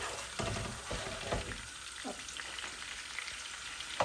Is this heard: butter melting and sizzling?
yes